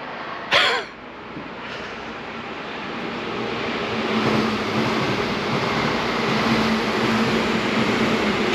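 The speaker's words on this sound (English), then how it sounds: "Train passes through here too." A low rumbling rush of a train passing by at moderate distance, steady and broad, after a brief cough-like burst near the start.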